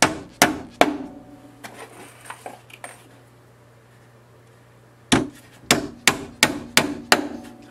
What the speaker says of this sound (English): 18-ounce hammer I got from Rigid.